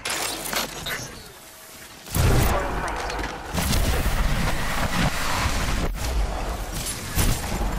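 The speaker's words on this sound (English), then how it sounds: "They spotted me. I'm taking shots." Gunfire in the Apex Legends video game: a loud, sharp burst erupts after a quieter stretch, followed by sustained rapid shots and impacts, with a crack near the end and heavy sound throughout.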